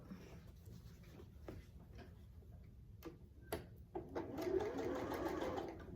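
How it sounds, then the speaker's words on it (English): A sewing machine stitches a quilt-as-you-go Christmas stocking with a quiet, rapid ticking rhythm, pausing briefly before running faster and louder toward the end. "And we're going to sew from this corner to this corner, just like you do binding on a quilt."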